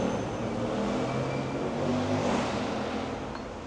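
A loud motorbike engine revs and drones nearby on a city street in Kowloon, Hong Kong, at night, its rough rumble rising and holding steady before easing slightly, with no voices.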